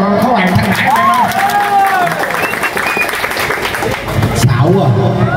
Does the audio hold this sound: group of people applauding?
yes